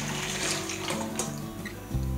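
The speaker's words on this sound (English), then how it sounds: "I'm just going to pour it in because I'm going to pass it all out afterwards." Hot panna cotta mixture is poured steadily into a bowl in a kitchen, giving a continuous close liquid splashing and trickling that ends with a soft thud near the end.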